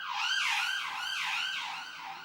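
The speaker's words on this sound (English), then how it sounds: "There's a police car, I think, or an ambulance, I don't know." An emergency vehicle siren, police car or ambulance, wailing in fast repeating up-and-down sweeps, loud and steady throughout with no talking.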